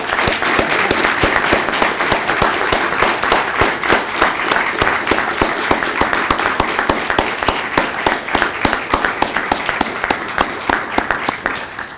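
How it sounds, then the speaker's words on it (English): An audience at a symposium dinner applauds to welcome the honoree, Aziz Fouad, with steady, loud clapping whose individual claps stand out in a rhythmic pattern over twelve seconds. "I'd like to start by giving a round of applause"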